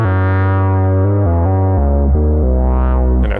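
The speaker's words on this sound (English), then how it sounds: "there's also already a bit of reverb on the Mother 32, which comes from my Ableton actually." A Moog Mother-32 synthesizer with reverb added in Ableton plays a sustained, buzzy bass melody that steps through several pitches, loud and rich, with a swelling filter sweep near the end.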